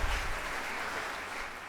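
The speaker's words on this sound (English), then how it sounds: "I think that deserves a huge round of applause." Audience applause at an awards ceremony, a broad, even patter of many hands clapping, fairly soft and continuous for the short stretch.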